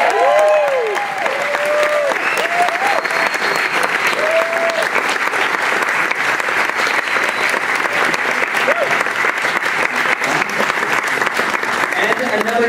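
Loud, steady applause from a horror convention audience welcoming film director John Landis, dense clapping with a few cheers and whoops early on, sustained throughout.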